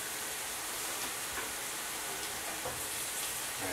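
Shrimp and pork fajita meat sizzling in a cast iron pan, a steady hissing crackle of frying with occasional soft pops and stirring, continuous and fairly faint with no speech.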